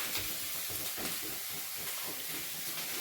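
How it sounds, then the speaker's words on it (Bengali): Potatoes, beans and cauliflower fry in a pan with a soft, steady sizzle and hiss, quiet and unbroken, with no one speaking. "মাসে এখানে করছে আলু, বিনস আর ফুলকপি ভাজা"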